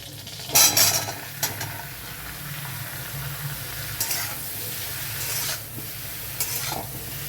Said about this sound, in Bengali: মাশরুমগুলো দেখো বাটারে ছেড়ে দিচ্ছি।